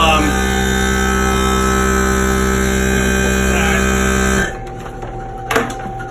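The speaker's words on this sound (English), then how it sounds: "I'm going to start getting low voltage alarms" A solar battery system's low-voltage alarm, near 11.4 volts, drones loudly as a steady electronic buzzing tone with layered harmonics, then abruptly cuts off, leaving quieter background noise and a brief rustle.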